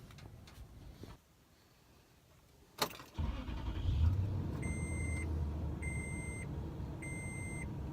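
A 2005 Toyota Tundra with a newly repaired misfire starts after a short crank and settles into a steady, fairly quiet idle, while electronic chimes beep in three repeating bursts over the engine.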